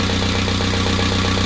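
Up close, a car engine idles at a constant level, giving off an even, rhythmic low chugging and a droning vibration with nobody talking.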